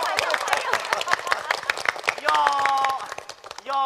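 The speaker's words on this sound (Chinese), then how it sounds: "乡亲们，大家鼓掌，大家鼓掌啊！" Audience clapping at a staged Henan opera (Yu opera) modern poverty-relief drama, a dense run of claps that overlaps briefly with sustained instrumental tones near the end.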